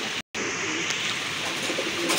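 Large golla pigeons at a pigeon sale coo steadily through the whole stretch, layered over a constant hiss of background noise, with no one speaking.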